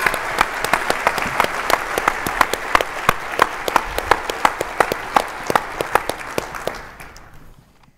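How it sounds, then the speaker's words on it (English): A conference audience claps for patients, family members and advocates, with a dense round of applause and sharp individual claps that hold steady before fading out at the end. "I want to give a round of applause to all of our patients, family members, and advocates."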